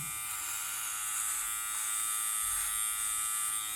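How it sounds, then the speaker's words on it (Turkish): A Powertec electric hair and beard clipper hums with a steady, close, high-pitched buzz throughout, with no talking. "İsterseniz tıraşa geçelim."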